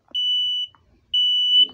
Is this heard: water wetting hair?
no